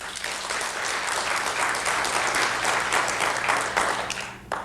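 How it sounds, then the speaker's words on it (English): Audience at a 2000 Libertarian Party campaign rally breaks into sustained, steady applause, a dense wash of hand claps that swells and then trails off near the end. "Please applaud if you've read that book."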